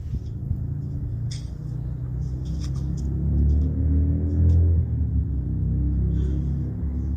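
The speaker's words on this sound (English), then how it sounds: "Hey, we gonna let this Toyota Tundra come here real quick." A green Toyota Tundra pickup rolls up close, its low engine rumble swelling and then easing, with a few faint clicks and rustles over the top.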